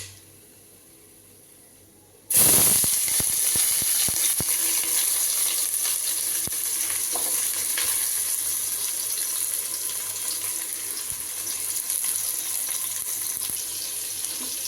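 Cinnamon, cloves and cardamom dropped into hot oil for chicken biryani burst into a loud, bright sizzle that starts abruptly and hisses steadily on, close and alone.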